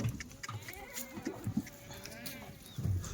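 Kathiawari goats stepping down from a vehicle give a few soft bleats amid shuffling and bumping, fairly quiet and close.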